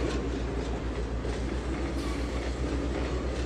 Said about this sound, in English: No, it must just be this engine here I'm hearing.